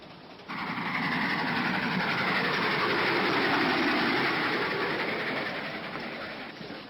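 A moving passenger train, its steady rumbling roar swelling in, holding for several seconds and then easing off, with no talk over it.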